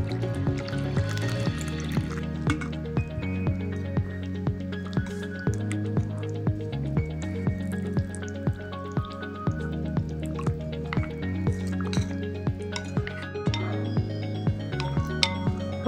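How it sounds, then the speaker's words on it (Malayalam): Arrowroot powder is stirred into water in a bowl, giving soft wet squishing and dripping sounds in a steady repeated rhythm, close and fairly quiet, with no talking. "കൂവപ്പൊടി വെള്ളം ഒഴിച്ച് മിക്സ് ചെയ്തിട്ടുണ്ട്."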